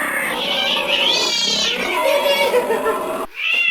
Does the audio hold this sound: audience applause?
no